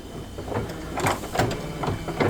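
An embroidery machine stitches an appliqué tack-down line through two layers of fabric, making rapid rhythmic needle clatter that pulses unevenly, close and fairly loud, with no talking.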